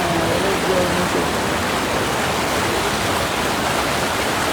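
Powerful water rushes in a steady, dense roar at a fishing spot, loud and unbroken from start to finish, with a faint voice briefly under it at the outset.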